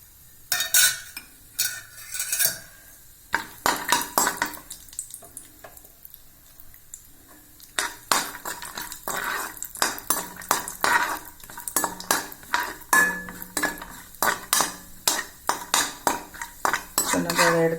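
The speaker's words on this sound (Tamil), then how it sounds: "முந்திரி பருப்பை வறுத்துக்கலாம்." Cashews roasting in ghee in a kadai, stirred with a metal spoon that clinks and scrapes against the pan in quick repeated strokes, with a faint sizzle underneath and a quieter pause in the middle.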